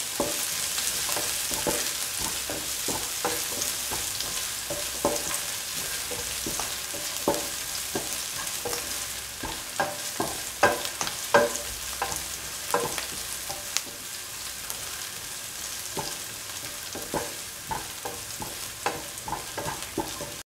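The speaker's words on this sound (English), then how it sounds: "And the shallots are golden brown." Shallots frying to golden brown in hot oil give a continuous bright sizzle, with steady stirring strokes and occasional utensil taps, close up and with no talk.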